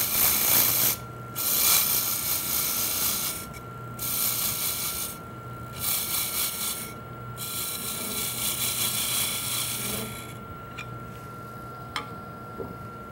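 Roughing gouge cutting a spinning wood spindle on a lathe, a steady scraping, chattering hiss in loud bursts that pause briefly between passes, with a constant motor whine beneath.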